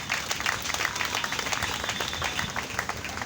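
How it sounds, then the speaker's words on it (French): Church congregation applauding and cheering in praise during a funeral service, dense steady clapping with scattered shouts for several seconds, no talk over it. "Est-ce qu'on peut acclamer pour le roi des rois?"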